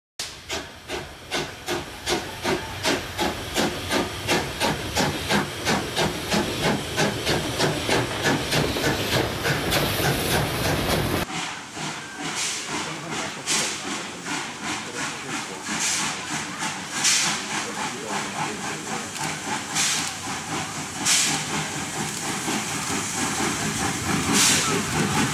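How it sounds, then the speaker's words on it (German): Germany's oldest operational standard-gauge steam locomotive on a special run hisses steam loudly and steadily with rhythmic chuffing, then keeps a softer, continuous hiss with intermittent bursts later on. "Wir sehen sie bei einer Sonderfahrt als derzeit älteste betriebsbereite Normalspurlok in"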